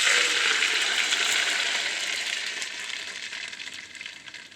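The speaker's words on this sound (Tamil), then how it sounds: "இப்போ எண்ணெய் சூடாயிடனோடனே அந்த நம்ம அரைச்சி வச்சுருக்க அந்த மாவை எடுத்துக்கோங்க." Rice flour dough sizzling as it goes into hot oil in a pan for kara kozhukattai, a steady loud hiss that slowly fades over several seconds, with no talking.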